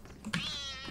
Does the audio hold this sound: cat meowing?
yes